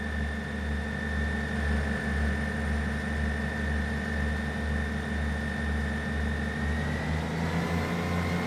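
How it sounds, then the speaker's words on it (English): A locomotive engine runs steadily in the Train Sim World 4 video game, a loud continuous low drone with layered tonal hums and a rising whine toward the end, with no talk. "It's a nice engine sound."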